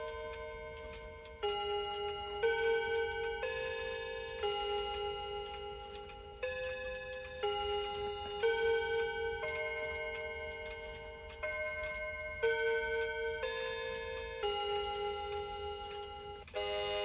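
A Seiko chiming clock plays its melody in a home clock collection, with a long run of clear, ringing bell-like notes struck in a regular tune, each tone decaying into the next, close and steady for over fifteen seconds.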